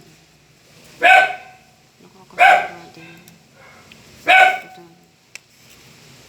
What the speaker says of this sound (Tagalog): Ang ingay talaga ng aso ko.